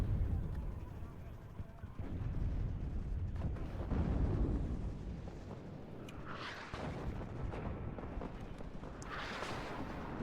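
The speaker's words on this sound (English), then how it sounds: "all batteries are ordered to fire on the Challenger Mark II" In the WARNO video game, artillery batteries fire on a Challenger Mark II tank with a series of deep booming blasts and rumbling impacts, one heavy burst near the middle and sharper cracks later, under faint battle ambience.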